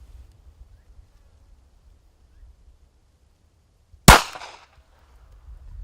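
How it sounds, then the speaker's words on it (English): A small caliber handgun fires once at 2x6 boards from about 10 feet, a single sharp, loud crack that decays quickly amid faint low background rumble. "I'm gonna shoot that dot on the center board"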